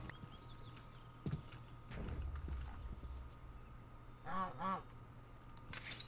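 Geese honk in the Horror Craft survival game, a pair of short nasal calls heard fairly close near the end over a low steady game ambience with scattered clicks and thumps.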